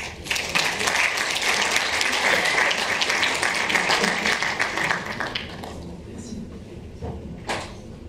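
Applause from the audience at the Kinotayo 2019 closing and awards ceremony, dense and fairly loud clapping for about five seconds, then thinning to sparse claps and quiet room sound.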